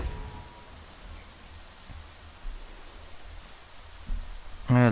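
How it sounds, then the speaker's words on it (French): Rain in the Jurassic World Evolution video game, a soft, steady hiss of falling drops throughout, moderate and diffuse, with faint taps and a voice cutting in at the very end. "Ah, la pluie, je vous jure, ça aide pas non plus."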